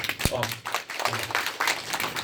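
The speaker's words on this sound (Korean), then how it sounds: "하나님께 우리 박수 한번 칩시다" A church congregation claps together during a sermon, a quick flurry of hand claps mixed with voices and cheering.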